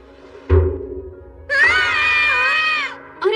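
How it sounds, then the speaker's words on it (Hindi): Two animated characters scream together in a loud, sustained, high-pitched burst lasting over a second, after an earlier dull thud, and a fresh scream begins at the very end. "तुम दोनों चिल्ला क्यों रहे हो?"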